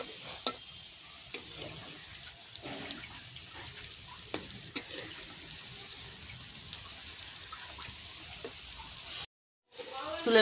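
Cauliflower chops frying in oil over low heat, a steady close crackling sizzle with scattered pops and light utensil taps, cutting out briefly near the end.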